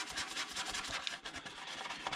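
Steady rubbing and scrubbing against a Lexan RC car body to strip off paint, a continuous close rasping friction with slight rhythmic strokes and no talk.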